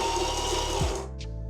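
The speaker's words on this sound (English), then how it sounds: "Okay, I put some beans inside. Turn it on." A burr grinder built into a refurbished espresso machine, with replaced burrs, grinds coffee beans in a loud close whir that winds down after about a second, leaving a low motor hum.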